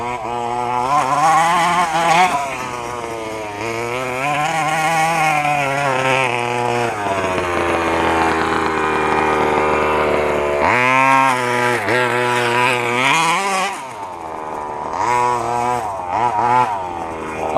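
An FG two-wheel-drive gas-powered RC truck engine revs loudly and close, its high buzzing whine climbing and falling repeatedly, dropping to a lower idle before revving up again.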